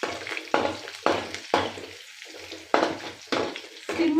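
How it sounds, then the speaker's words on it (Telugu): Cumin, other tempering spices and crushed garlic cloves fry in oil over a low flame for a rustic ivy gourd and green chili chutney, a close crackling sizzle that swells in bursts as the pan is stirred. "తాలింపు వేగే వరకు ఇలాగ వేయించుకున్నామండి."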